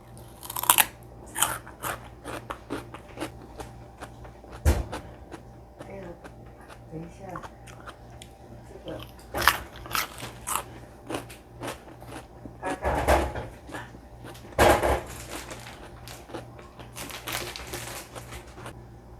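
Bites and chewing of peeled, washed raw white radish, giving scattered crisp crunches and wet chewing sounds at close range, with soft voice and small handling noises in the quiet gaps.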